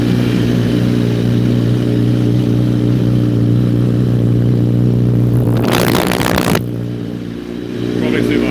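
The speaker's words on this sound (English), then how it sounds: "Can you hear me over the noise of the bike?" A BMW HP4 race motorcycle engine runs steady and loud at Jerez with a strong droning hum. A burst of broadband clatter near the end breaks in briefly before the drone settles again.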